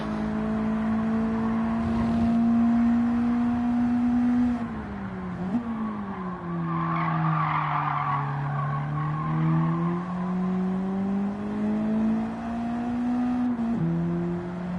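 Mazda MX-5 race cars lapping Tsukuba circuit in Gran Turismo 7, a steady engine drone rising and falling through gear changes, with tire squeal and skidding noise in the middle of the run and no talk.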